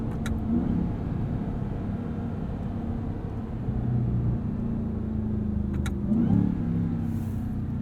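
Continuous low engine and exhaust rumble from a 2021 Ram 1500 TRX pickup truck driving on the street, loud and steady, with a thin supercharger whine riding faintly above it.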